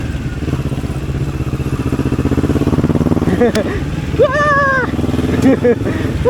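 A motorcycle climbs a rocky, stony trail with a steady mid-pitched engine drone and rattling clatter, close to the rider, briefly rising in revs while a voice calls out over it.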